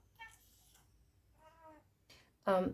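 A house cat meows several times in short, separate calls with gaps between, the last one loudest and closest, in a quiet room.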